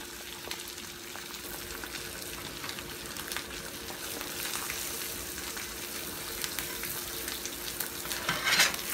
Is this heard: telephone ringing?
no